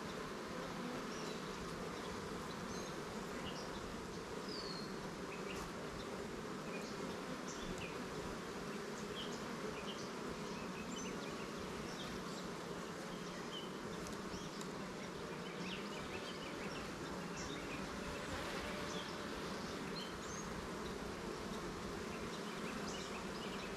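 Honey bees buzz at a backyard hive, a dense, continuous hum of many wings with individual bees zipping past close by, steady and unbroken throughout; no talking.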